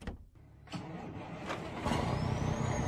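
An American truck engine in a video game starts and then runs with a steady mid-range rumble that grows louder and fuller, with a faint rising whine near the end and no talking.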